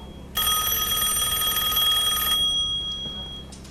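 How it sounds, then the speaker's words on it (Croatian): A telephone rings with one steady electronic trill lasting about two seconds, clear and close, then stops. Faint room noise continues afterward. "Telefon."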